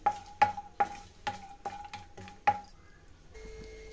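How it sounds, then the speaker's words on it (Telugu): Almonds and cashews with cardamom roasting in ghee in a pan for a summer payasam, a series of sharp spoon taps and scrapes against the pan at a steady rhythm over a faint sizzle, close by. "ఇప్పుడు డ్రై ఫ్రూట్స్ని రోస్ట్ చేసుకోవాలండి."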